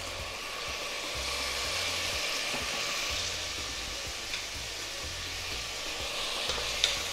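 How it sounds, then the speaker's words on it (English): Bay leaf, ginger, curry leaves and finely chopped tomatoes sizzle steadily in a pan with cinnamon sticks while being stirred, a continuous close hiss with soft scraping and a couple of small clicks, no talking. "the bay leaf, we'll just stir it up, and ginger, the curry leaves, and finely chopped tomatoes."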